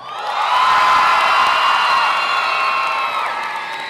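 Studio audience in a show voting loudly, swelling into enthusiastic cheering, whooping and clapping that holds strong, then eases slightly toward the end.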